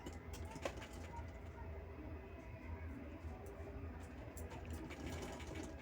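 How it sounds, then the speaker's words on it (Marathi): A sewing machine stitching a lined fabric strip for a handmade bag runs continuously, a loud, close, steady mechanical whirr and rapid clatter with no pauses. "दुसरी पट्टी पण शिवत आहे मी"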